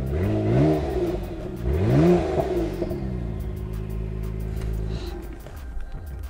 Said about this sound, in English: We'll give it a few revs